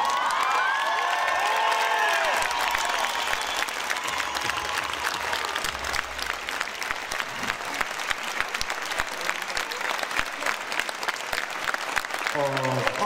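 A theatre audience at a Hungarian folk dance gala applauds after a performance, a long, dense wash of clapping with some cheering, while an announcer speaks over it.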